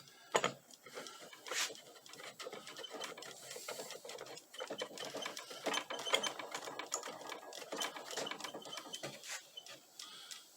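Repeated small metallic clicks, scrapes and ratcheting squeaks as a back leg is screwed into a Miller 6-string pedal steel guitar, irregular bursts of handling noise close by and fairly quiet, without speech.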